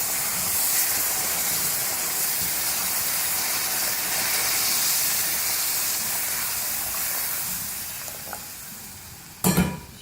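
Sugar syrup hisses and sizzles steadily as it is poured into roasted semolina and gram flour for halwa, a broad continuous frying hiss that fades slightly before a couple of sharp clatters near the end.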